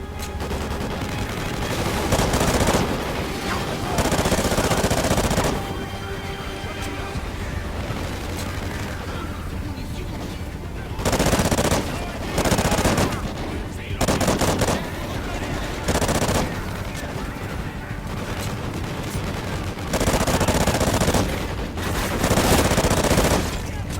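Gunfire from the 2013 Call of Duty: Ghosts campaign, with sustained bursts of automatic fire and repeated loud volleys over a dense battle din, and shouted voices mixed in.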